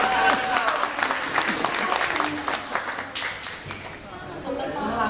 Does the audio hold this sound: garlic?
no